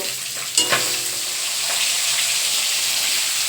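Fish frying in a pan with spices, a steady close sizzle and crackle that runs throughout, with a sharp clatter of utensils early on and a faint watery hiss underneath.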